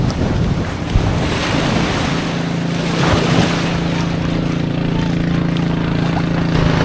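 Ocean surf rolls steadily onto a Zambales beach, a continuous washing roar with heavy wind buffeting the microphone and a boat engine humming in the background.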